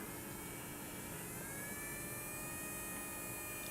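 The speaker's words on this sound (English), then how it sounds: "So this is our engine, and it's turning." A small electric motor on an eco-marathon car, driven through a potentiometer and NE555 pulse circuit, runs with a steady, continuous whine and hum, close and unchanging throughout, with no talk.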